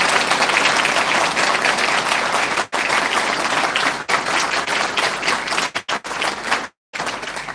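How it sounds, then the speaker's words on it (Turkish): Loud, sustained applause from a crowd at a Circassian association gathering, steady dense clapping with a few brief dropouts near the end. "Onun için de büyük bir alkış istiyorum."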